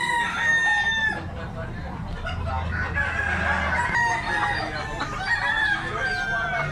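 A gamefowl stag crows loudly and close, several drawn-out calls with clucking and other fowl nearby, with someone talking in the background.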